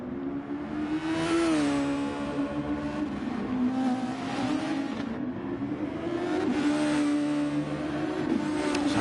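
Engine of a Super Formula race car in a racing video game, pulling out of the pit lane at Interlagos: a loud, sustained high-pitched drone that rises and dips in pitch as it shifts through the gears, with no talk.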